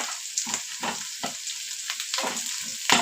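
Dried red chillies fry in hot oil for chicken sambar, a steady bright sizzle broken by repeated stirring scrapes of a spoon in the pan, close and continuous with no talk.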